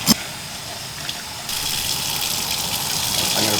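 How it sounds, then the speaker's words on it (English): Tap water gushes steadily into a pot for mung bean soup, a short clink at the start and then a continuous rushing pour that grows fuller and louder partway through, with no talking. "I'm going to put 12 cups of water in."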